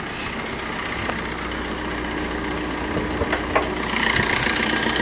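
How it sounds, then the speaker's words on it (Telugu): A car engine idles steadily with the air conditioning running, a close, even mechanical hum with a few faint clicks, and no talk. "ఏసీలో మీకు ఇంజన్ సౌండ్ కూడా చూపిస్తాను నేను"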